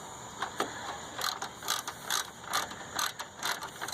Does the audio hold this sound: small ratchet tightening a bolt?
yes